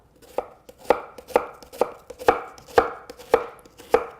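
Knife chopping an onion on a cutting board, about eight sharp, evenly spaced thunks in a steady rhythm, close and alone with no talk.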